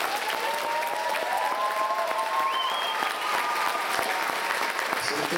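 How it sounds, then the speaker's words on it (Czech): An audience at a dance club performance in Kyjov applauds the group's coaches with sustained, even clapping that fills the hall, while a faint tone wavers in the background. "já vás poprosím ještě o malinký drobný potlesk pro tady ty děvčata"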